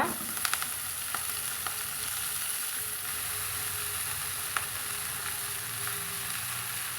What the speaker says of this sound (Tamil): இப்போ நம்ம அந்த கீரையை இது கூடவே சேர்த்துக்கலாங்க